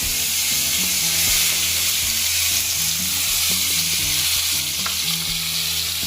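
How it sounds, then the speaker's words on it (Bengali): Onion paste dropped into hot oil with whole spices, a loud, steady hissing sizzle over a low hum and tonal background noise, continuous and close, with no talk. "প্রথমে আমি এই পেঁয়াজ বাটাটা ওর মধ্যে ফোড়নের মধ্যে দিয়ে দেবো"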